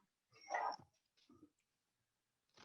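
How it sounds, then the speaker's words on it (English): A dog whimpers to be let in, giving a few short whiny yelps and soft whimpers with pauses between them, close and fairly faint. "That's my dog."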